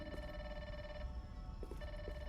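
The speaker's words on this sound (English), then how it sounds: "I hear a telephone ringing?" Telephone ringing in the game Grounded 2, a faint electronic ring with steady tonal pulses under low background hum, fairly quiet and distant, no talk.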